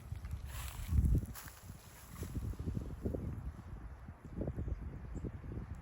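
Strong gusts of wind buffet an outdoor farm spot in low, uneven surges and rumbles, with one louder thump early on, and no voices.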